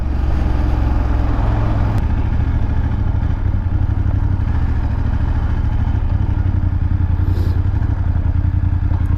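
A passing Harley-Davidson motorcycle engine rumbles loudly and steadily throughout, with a deep low-pitched drone and some rattling, staying close the whole time.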